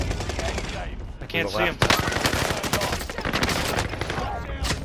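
Rapid bursts of automatic gunfire from a video game crack out in fast rhythmic volleys, close and loud, while players talk over the shooting.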